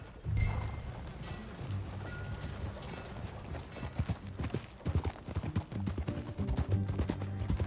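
Horse hooves clip-clop steadily as riders travel on horseback in the Red Dead Redemption 2 video game, a continuous rhythmic trot mixed with game ambience and faint tack rattles.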